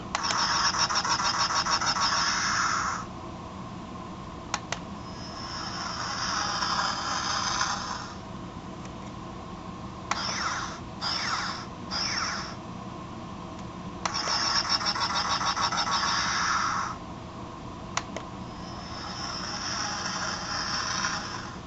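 A Star Wars toy spaceship's electronic engine hum plays in bursts, switching on and off several times with short clicks between, fairly quiet and close by.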